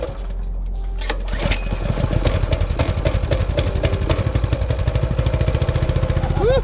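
A small mini bike engine starts up and runs close by, its rapid pulsing putter steady at first, then climbing in pitch as the throttle is blipped near the end, with a brief voice in the background.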